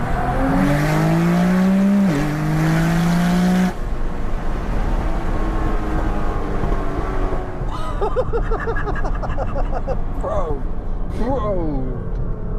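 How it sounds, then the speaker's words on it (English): A 2000-horsepower Nissan GT-R accelerates hard in second gear, a loud rising engine howl up close, then fades into distant rapid popping and quick rising revs from further gear changes. "I'm going to show you like second gear. Like, I don't even care how fast the car is. Just have a listen."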